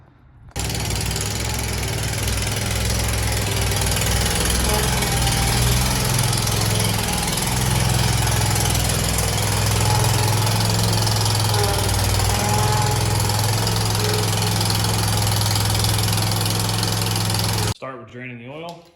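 A Toro Z Master Z255 zero-turn lawn mower engine runs steadily and loudly at close range, a deep constant drone with knocking vibration that holds for about seventeen seconds before cutting off abruptly.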